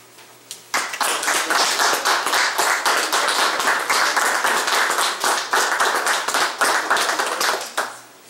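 Church congregation applauding members whose family are serving in the military: a sudden start of full, steady clapping from a crowd that holds for several seconds, then fades.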